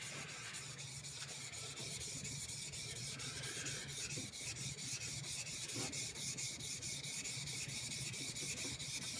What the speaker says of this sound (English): Take your chisel, lay it flat with the fingers evening out the pressure